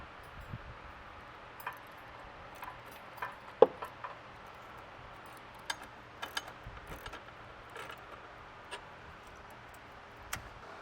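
Bracket bolts being tightened on a 2024 Chevrolet truck during a Westin PRO TRAXX oval nerf bar install, heard as scattered sharp ratchet clicks and metallic taps, fairly faint and spaced out, with no talking.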